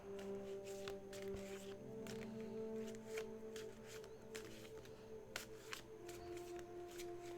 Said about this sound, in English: Let me do some shitty shuffling.